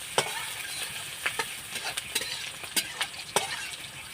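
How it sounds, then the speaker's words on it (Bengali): Sliced onions are stir-fried in a pan for a veg momo recipe, giving a steady sizzle broken by sharp scraping strokes of a spoon at irregular intervals. The frying is close and clear, and nobody speaks. "2-1 মিনিটের মতন আমি ভেজে নেবো এই পেঁয়াজটাকে।"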